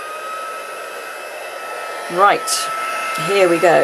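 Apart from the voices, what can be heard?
heat gun blowing hot air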